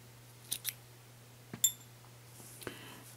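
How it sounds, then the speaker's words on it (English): Scissors snip through crochet yarn, several quiet close clicks and cuts over a low steady hum. "So I'm going to grab my scissors,"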